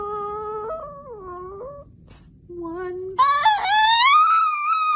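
A cat yowls and moans in long drawn-out wails that rise and fall in pitch, close and loud, with a brief quiet gap midway before a louder, strained cry.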